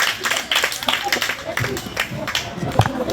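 Applause from an audience at a school event, a steady wash of many hands clapping at moderate volume, filling the whole moment.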